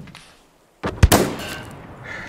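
A single sharp sniper rifle shot in the video game Hell Let Loose cracks loudly after a brief silence, then trails off into a short echoing tail.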